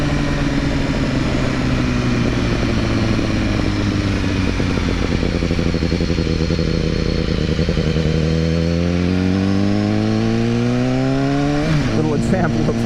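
A 2015 BMW S1000R motorcycle is ridden out onto twisty roads, its engine droning steadily with rising and falling pitch through gear changes, then revving up hard as it accelerates near the end, loud and close throughout.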